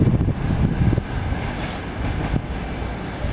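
Railway carriages, including an unidentified special car, roll past with a rumbling, rattling rush, loud and near, with periodic clunks of wheels over rail joints and wind buffeting the microphone.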